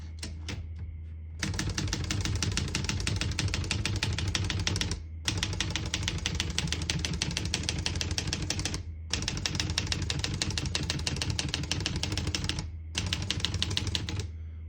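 Rapid typing on a 1968 Olivetti Lettera 31 portable typewriter, set to single line spacing: dense close-up clatter of key strikes in long bursts broken by short pauses, loud and continuous with no talk.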